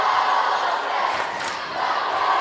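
A crowd roars and cheers in a high school basketball fieldhouse, with a loud sustained wash of voices that dips briefly and swells again.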